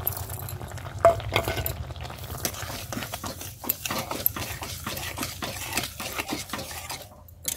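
A spoon stirs lemon juice and sugar in a pot, producing a rapid run of clinking, scraping taps against the metal over a low background hum, with no talking.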